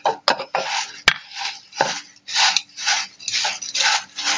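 Puffed rice bhel is mixed with salt, chilli powder and tempering, giving rhythmic dry rustling and crunching bursts, with a few sharp clicks of a spoon against a bowl.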